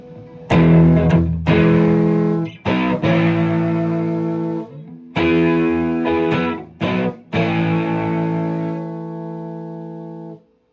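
Electric guitar chords played with overdrive, thick and sustained, struck in several bursts with short gaps, ringing out at the end.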